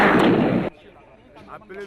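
A single loud, close blast fired into a crowd during a military crowd-control training exercise, a broad burst that cuts off abruptly, followed by faint voices and background noise.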